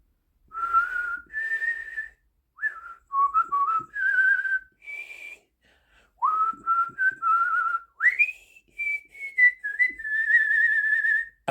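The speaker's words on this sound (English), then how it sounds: "So this is what I was whistling to myself." A person whistles a melodic tune alone, bending and sliding between notes in short phrases separated by brief pauses, close and clear.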